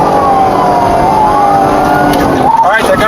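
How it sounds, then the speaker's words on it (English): Police sirens wail and sweep in pitch over steady traffic during a pursuit of a stolen car on Capitol, with a second siren tone rising near the end as vehicles pass close by. "they hear a bunch of sirens and they think it's someone far away"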